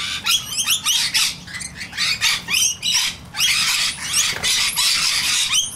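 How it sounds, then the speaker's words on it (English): Scaly-breasted and rainbow lorikeets calling at a bird sanctuary: loud, close bursts of shrill screeches and squawks come in quick clusters with short pauses between them. "this beautiful little bird, is a scaly-breasted lorikeet."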